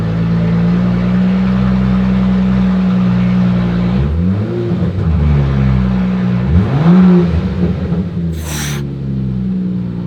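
A BMW 435i with a Borla exhaust and its end piece removed revs up close by, a steady loud idle rising twice into sharp throttle blips around the middle, with a brief high hiss near the end.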